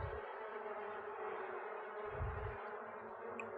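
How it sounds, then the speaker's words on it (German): Bees from The Sims 4 buzz in a continuous, even, faint swarm-like drone, with no talking over it. "Und die Bienen werden nicht mehr so aggressiv ihm gegenüber."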